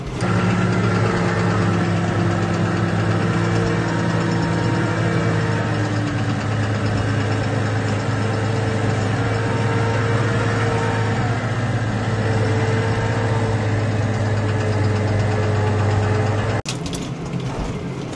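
A tractor engine running steadily with worn valves knocking, a loud continuous low rumble with a fine repetitive tapping throughout, cutting off abruptly near the end.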